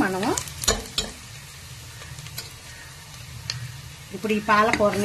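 Curry leaves fry in oil for a palak paneer curry, giving a soft crackling sizzle with spoon scrapes, while a person talks at the start and end.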